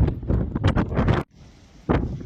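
Gusty wind on the Gibraltar coast after a storm slams the microphone in rough bursts, drops to a brief near-quiet lull, then returns with another strong gust.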